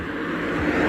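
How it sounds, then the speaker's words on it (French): Steady roadside traffic noise as cars pass by, a continuous broadband rush with a faint rising swell toward the end, no voices. "Désolé pour le bruit des voitures qui passent"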